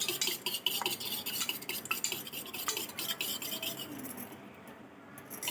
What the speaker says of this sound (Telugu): ఇప్పుడు రెండు గుడ్లు వేసిన తర్వాత మనం ఒక సగం స్పూను ఉప్పు వేసుకుందాము వేసుకొని బాగా కలుపుకోవాలి